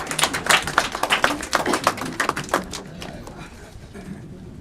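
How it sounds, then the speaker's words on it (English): Conference audience at a G20 Universities Impact Summit in London breaking into brisk applause that swells loudly for a couple of seconds and then thins out to scattered claps. "Give a clarion clap."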